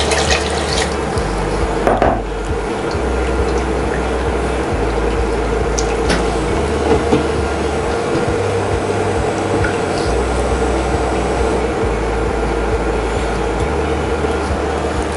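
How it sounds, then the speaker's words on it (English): Water pours steadily and splashes continuously into a cooking pot of makhani sauce, loud and close, with a brief clatter partway through. "we're gonna add some more water"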